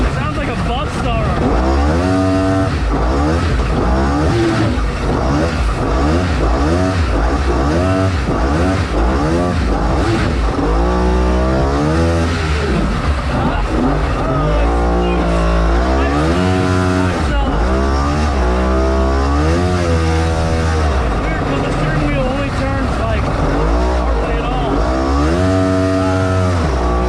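Polaris three-cylinder jetski engine running in an aluminum jet boat, a loud, close, continuous engine roar that rises and falls through repeated revs and throttle changes, with someone talking over it.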